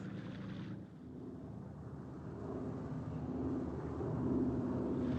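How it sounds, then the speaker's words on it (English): A contact plane approaching a ship at sea, a steady low droning engine rumble that swells gradually as it nears, heard alone without voices. "Contact plane approaching on schedule."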